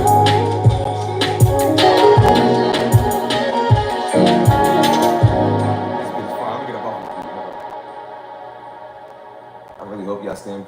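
A hip-hop style beat, punchy kick hits and a bass line pulsing steadily at moderate volume before thinning out into a fading melodic tail.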